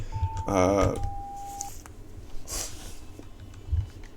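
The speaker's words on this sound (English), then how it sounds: "This is my rotary phone" A rotary phone in a synth lab gives a short rattling burst and a held tone, followed by scattered faint clicks and handling noises at close range.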